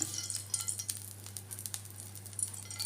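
Sardines frying in coconut oil in an iron pan, a steady crackling sizzle with sharp spitting pops scattered throughout and a low hum beneath, no voices.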